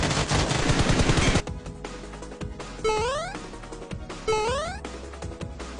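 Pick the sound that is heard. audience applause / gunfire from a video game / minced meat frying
gunfire from a video game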